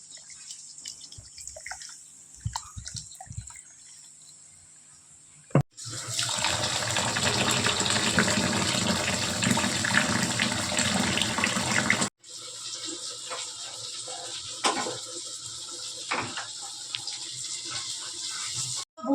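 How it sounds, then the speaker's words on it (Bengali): Gobindobhog rice is washed by hand in water: gentle swishing and dripping in a vessel, then a loud, steady gush of running tap water for several seconds, then more sloshing and drips after it stops. "এবার আমি চালটাকে হালকা হাতে ধুয়ে নিচ্ছি যতক্ষণ না ময়লাটা পরিষ্কার হয়ে যায়"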